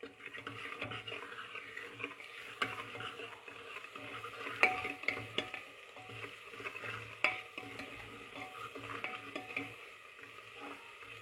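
Ginger garlic paste fries in a pan for a village-style mutton curry, quiet sizzling under repeated scraping and clinking of a spoon stirring against the pan, close and without talk.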